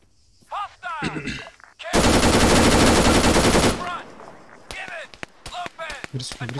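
Sustained automatic gunfire in the video game Arma 3 plays as a loud, continuous burst lasting about two seconds, with people talking before and after it.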